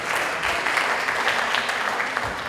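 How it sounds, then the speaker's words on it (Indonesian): An audience claps for performers at a Bandung stage event, a dense, loud, sustained applause that fills the moment from start to finish with no break. "boleh tepuk tangan untuk Kang Ganjar Nur dan kawan-kawan."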